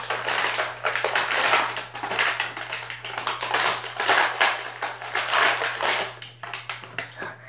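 Rapid crinkling and crackling of stiff plastic as Bakugan toys are pushed out of their packaging, a dense run of sharp clicks and crunches close by, steady for several seconds with no talking.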